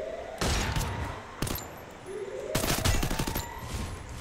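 Gunfire in the mobile battle royale game Garena Free Fire, with a couple of loud single shots followed by a rapid burst of rounds, sharp and up close.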